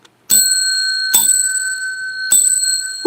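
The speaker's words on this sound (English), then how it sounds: "That's 3 rings of the bell with my big fat nose" A bicycle-style bell struck three times with a nose, each loud, bright ring sustaining and fading before the next, evenly spaced and close up.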